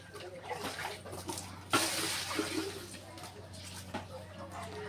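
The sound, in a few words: water poured for washing clothes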